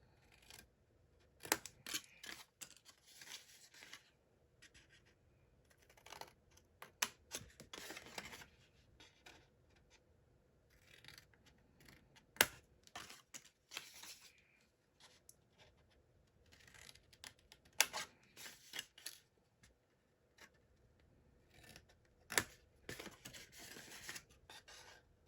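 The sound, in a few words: scissors snipping paper box pieces at an angle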